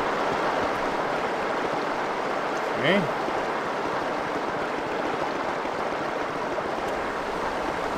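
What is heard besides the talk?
flowing water in the video game Star Wars: Dark Forces II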